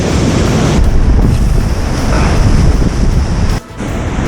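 Heavy, strong sea waves roll and crash onto the shore at a coastal fishing spot, a loud, continuous surf roar mixed with wind buffeting the microphone, dropping off briefly near the end.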